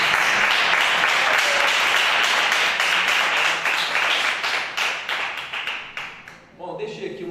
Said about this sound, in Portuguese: As palmas que louvem a Deus.